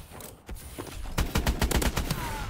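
Gunfire from the EPM3 weapon in a first-person shooter video game, starting with a few sporadic shots and then rapid automatic bursts close and loud, with sharp cracks in quick succession toward the end.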